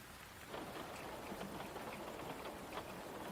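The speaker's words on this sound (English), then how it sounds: "So, I guess the storm woke you up too?" Steady rain pours during a nighttime storm, a dense hiss that swells after a brief quieter opening and holds evenly throughout; no clear thunder clap stands out.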